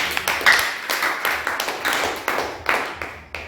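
A church congregation claps for Jesus in a steady, lively rhythm of many hands, loud and close, with no talking over it.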